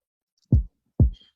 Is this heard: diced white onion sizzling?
no